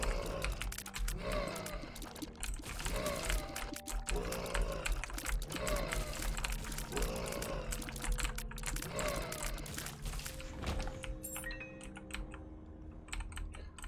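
Rapid, dense computer keyboard typing and key clacking runs steadily and close throughout, layered under busy game sounds from Binding of Isaac: Rebirth, with a rhythmic pulsing pattern before easing near the end.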